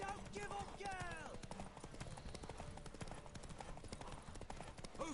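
Horse hooves clip-clop in a rapid, continuous rhythm in The Witcher 3, loud and close, mixed with crowd cheering and shouted voices over busy ambient noise.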